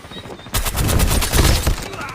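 Rapid gunfire in the mobile shooter Call of Duty Mobile, a dense burst of loud, close automatic shots that starts abruptly and runs for over a second before cutting off, with faint voices around it.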